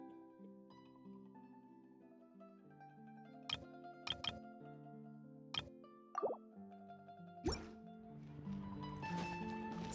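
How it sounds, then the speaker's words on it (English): Soft plops and drips of water in a video game, a few scattered drops that are quiet and partly masked by steady game music. "Oh, water."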